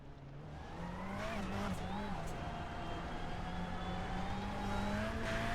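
Race car engine in an esports racing video game at Wild West Motorsports Park: a steady, sustained engine drone with rising and falling pitch, moderately loud and continuous, with a voice talking over it.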